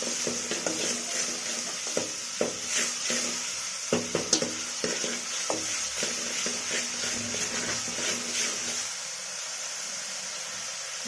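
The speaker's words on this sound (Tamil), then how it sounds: "இஞ்சி பூண்டு பேஸ்ட்டு கொஞ்சம் சேர்த்துக்கலாம் கொஞ்சம் பச்சை வாசனை போகிற அளவுக்கு கொஞ்சம் வதக்கி விடலாம்" Ginger garlic paste sautéing in a pan for mutton curry, with a steady close sizzle and irregular, clear clinks and scrapes from a stirring spoon throughout.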